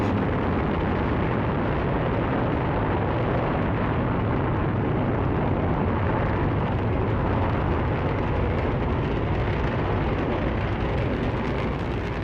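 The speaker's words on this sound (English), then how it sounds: "Allumage Vulcain. Allumage UAP. Décollage." An Ariane 5 rocket ignites and lifts off carrying the Webb telescope, a continuous, dense, roaring blast of broadband noise that stays loud and unbroken throughout.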